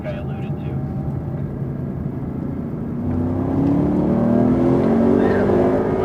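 A Mercedes-AMG car's engine accelerates on the Circuit of the Americas track, the loud in-cabin drone climbing steadily in pitch as throttle comes back on, with a rising whir and slight surge partway through.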